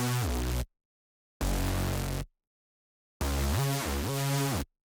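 A synth bass playing the Weekend Bass preset from Silent One in mono legato mode with portamento, heard as three loud sustained phrases separated by silence, the last one gliding between pitches.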